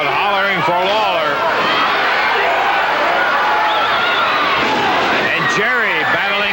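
Wrestling crowd in an anything-goes cage match hollering for Jerry Lawler, a loud, continuous arena roar of many voices with rising shouts, under and between a commentator's voice.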